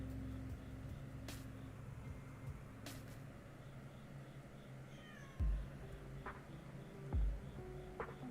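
A house cat gives two or three faint, short meows over low steady room hum, with a couple of soft knocks.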